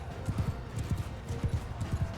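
Horse troop galloping in Mount & Blade II Bannerlord, a rapid, steady drumming of hooves close by, with battle ambience faintly behind.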